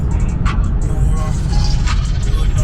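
Car cruising on a highway toward Orlando, a steady low road and engine rumble filling the cabin throughout, with faint higher noises over it and some background voice or music.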